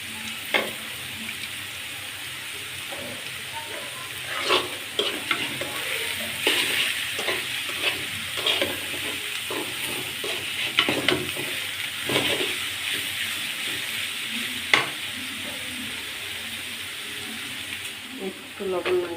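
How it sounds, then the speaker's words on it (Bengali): Two dried red chillies frying in a pan after cooked greens, a steady close sizzle broken by scattered clicks and spatula scrapes, with some background noise. "এখন আমি দুটো শুকনো মরিচ এখানে ভেজে নিচ্ছি।"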